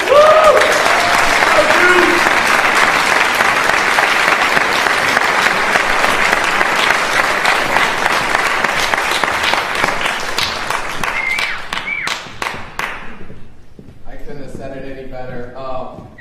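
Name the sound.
audience applause welcoming a speaker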